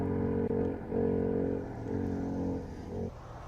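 Race car engine at a hillclimb, Simola Hillclimb, droning loudly as the throttle opens and closes in repeated surges and dips, close and continuous with no talk.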